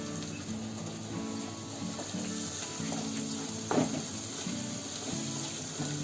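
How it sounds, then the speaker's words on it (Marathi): Ground masala paste with red chilli powder, coriander powder, garam masala and turmeric frying over cumin seeds in a pan, a steady close sizzle running throughout with one brief stir or clatter partway through. "आता जिरं फ्राय झालं की त्याच्यामध्ये आपण हे वाटण टाकून."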